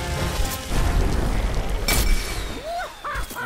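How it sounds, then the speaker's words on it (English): Bombs bursting in Plants vs Zombies: Garden Warfare, a dense rumbling barrage of low booms through the first two seconds with one sharp crack near the middle, then fading under brief vocal yelps. "Oh, bombs are exploding everywhere."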